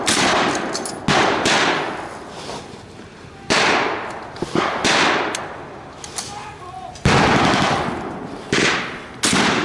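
An MG42 machine gun rips off several loud, close bursts of rapid fire at a WWII re-enactment battle, the volleys separated by short pauses.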